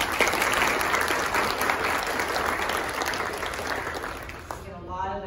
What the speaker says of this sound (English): Please help me give them a round of applause.